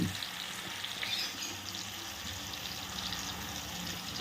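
Onion paste frying in hot oil for a prawn curry, with a steady, close, loud sizzle and crackle that holds evenly throughout, plus a brief stirring clatter at the start.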